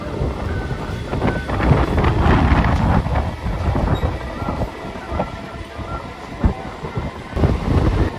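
A Bandel local commuter train rumbles as it gathers speed on the line from Howrah toward Dakshineswar, with steady close rolling noise, wheel clatter, rattling carriage sounds and wind buffeting the microphone throughout.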